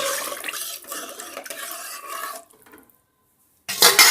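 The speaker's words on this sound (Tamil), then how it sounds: "1 டம்ளர் ரவைக்கு 3 டம்ளர் தண்ணி சேர்த்துட்டு ஒரு வாட்டி நல்லா மிக்ஸ் பண்ணிடலாம்." Wheat semolina being stirred with water in a pot for biryani, a steady wet scraping and sloshing that stops partway, a silent gap, then a short loud clatter.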